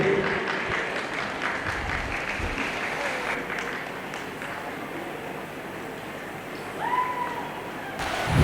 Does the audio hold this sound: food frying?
no